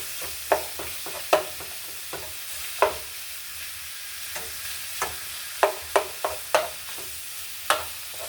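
Meat frying in a pan in a home kitchen, with a steady soft sizzle broken by sharp scrapes and clacks of stirring scattered throughout, close and moderately quiet, no talking.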